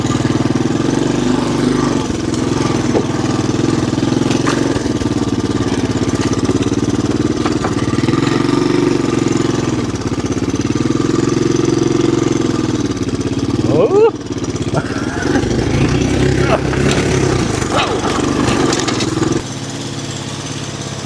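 A barn-find three-wheeler's small engine runs steadily nearby, a loud, continuous chugging drone with slight surges in pitch.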